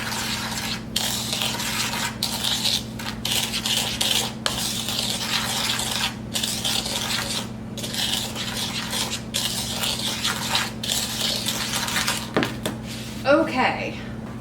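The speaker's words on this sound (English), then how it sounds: "I'm going to go ahead and stir this up." A spoon stirring a teaspoon spice mix for pumpkin cookies in a bowl, quick repeated scraping strokes in bursts, close and fairly loud, ending with a brief clink.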